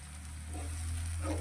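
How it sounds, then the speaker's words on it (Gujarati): Spices sauté in oil for moong dal, cooking until the added water burns off and the oil separates, giving a steady close sizzle over a low hum with soft stirring scrapes. "તેલ સારી રીતે છૂટું પડી જાય ત્યાં સુધી મસાલાને આપણે સાંતરીશું"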